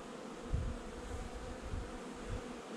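Honeybees buzz steadily at the hive while a queen is being raised, a low continuous drone with a few louder swells close by.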